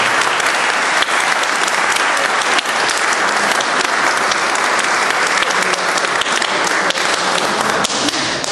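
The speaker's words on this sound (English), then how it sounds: "how about another round of applause for yourself and for the candidates" Sustained, dense applause from a crowd at a Republican candidate forum for a Jacksonville city council race, steady and loud for the whole stretch, with occasional sharper claps standing out and no talk over it.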